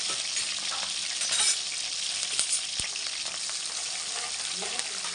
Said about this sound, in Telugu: ఇందులో ఆనియన్స్ వేసేస్తున్నాను, మిర్చి కూడా వేసేసాను.